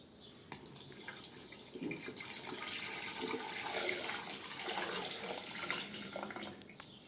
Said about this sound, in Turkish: Şimdi temiz suyumuzu döküyoruz ilk başta.